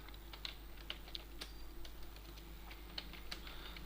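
Someone types code into Command Prompt on a computer keyboard, producing quiet, irregular key clicks with scattered sharper taps over a low steady hum, close and alone with no talk.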